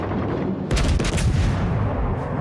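Battleship guns fire in World of Warships Legends, a heavy burst of booming shots that crashes in suddenly and rolls on loud and close over steady rumbling battle noise, with no voices.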